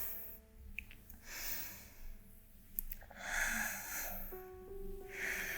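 Slow, even breaths during a yoga flow, each inhale and exhale a soft airy rush close to the mic, with a few sharper nasal snorts, over faint background hum.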